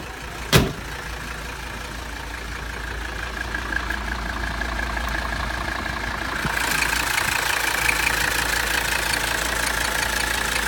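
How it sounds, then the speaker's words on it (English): A 1984 Mercedes 300TD wagon's 5-cylinder turbo diesel engine idles with a steady low rumble and faint knocking, close by, after a brief sharp click at the start. "5-cylinder turbo diesel engine"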